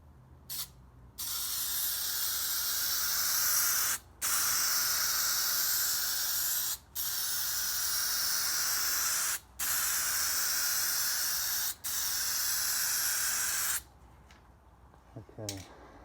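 Spray gun laying a second coat of paint on a 1989 Nissan Patrol, loud steady hissing bursts of several seconds each, broken by brief pauses, alone and close up.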